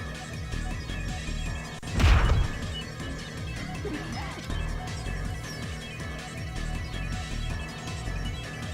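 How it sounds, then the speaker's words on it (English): A single hard punch lands in the anime visual novel Steins;Gate 0, a loud smashing impact near two seconds, heard alone over a steady music bed. "Her right fist connected hard with Kagari's stomach."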